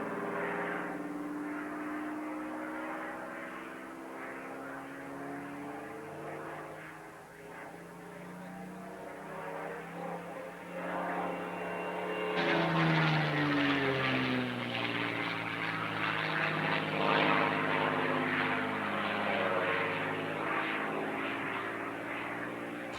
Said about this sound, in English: The Corsair performed briefly at its first appearance in the South.